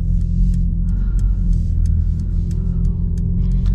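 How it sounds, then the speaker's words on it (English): Steady, loud engine rumble from a 2021 Mercedes-AMG CLA 45 Coupe, a continuous deep drone with faint higher ticks and crackles on top, heard alone with no talking. "This car sounds amazing."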